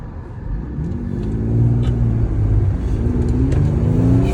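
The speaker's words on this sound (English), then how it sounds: "we're gonna see if we can row through some gears here out on the highway" A 2021 Jeep Gladiator JT with a 4-inch lift accelerates on the highway, its engine revving up through manual gear shifts, pitch rising steadily then dipping briefly at a shift before climbing again, loud and close.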